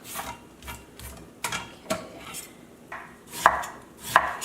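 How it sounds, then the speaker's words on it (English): A knife slices vegetables, daikon radish for pickling, on a cutting board: steady, evenly spaced cutting strokes, about ten in quick succession, close and fairly quiet, with no talking. "slice it like that"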